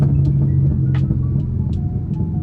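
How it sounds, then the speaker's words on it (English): A manual car engine hums at close range while the throttle is blipped during a downshift, with brief rises in engine tone and faint clicks over a steady low rumble and no talk. "Clutch in, flip the throttle, clutch out. And that's how you downshift."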